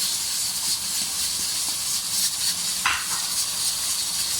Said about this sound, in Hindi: प्रेशर कुकर की अभी सीटी बज रही है